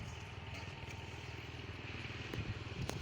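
A motorcycle engine runs with a steady low throb on a rural track during rainy weather, where cows and buffaloes are being herded, growing slightly louder toward the end.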